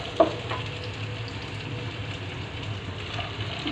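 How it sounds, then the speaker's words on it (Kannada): Chopped garlic and ginger fry in a little oil, a low, even sizzle with a soft stir near the start, close and moderately quiet without talk. "ಇವಾಗ ನಾನು ಇದನ್ನೆಲ್ಲ ಒನ್ ಬೈ ಒನ್ ಹಾಕ್ಕೊಂಡು ಫ್ರೈ ಮಾಡ್ತೀನಿ"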